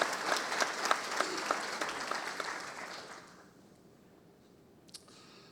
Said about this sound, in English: a round of applause again for our great city council, please